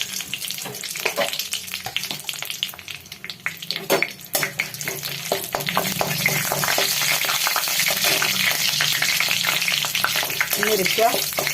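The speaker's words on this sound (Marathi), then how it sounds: "आता आपण फोडणी टाकू. आपला आता इथं तूप काढलेलं आहे. मी हे सगळे मसाले ह्याच्यात टाकून देते." Spices hit hot ghee for a chicken dum biryani tempering, sizzling and crackling loudly with scattered stirring clatter, then settling into a dense, continuous fry; no speech is heard.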